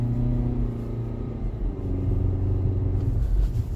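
A 2020 Kia Sportage with a 6-speed transmission climbs a hill, its engine a steady mid-pitched drone with a low rumble that swells slightly as it pulls, heard from inside the cabin.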